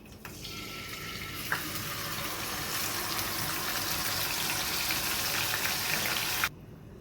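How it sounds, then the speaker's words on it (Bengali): Marinated chicken with yogurt and fenugreek hits hot oil tempered with fenugreek seeds and dried chili, bursting into a loud, steady sizzle up close that holds for about six seconds before cutting off. "এবার আমি চিকেনটা, ম্যারিনেট করা চিকেনটা আমি দিয়ে দিচ্ছি।"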